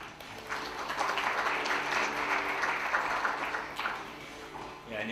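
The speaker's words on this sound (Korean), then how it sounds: "큰 박수로 환영해 주시기 바랍니다" An audience claps to welcome a lecturer at a software and humanities conference, with sustained applause that builds quickly, holds steady and then tapers off toward the end.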